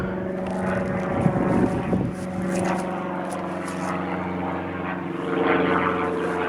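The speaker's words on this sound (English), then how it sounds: "Now if I could only get these damn planes to get the hell out of my video." Propeller airplanes fly overhead, their engines giving a loud, continuous droning hum that swells, eases and swells again as they pass.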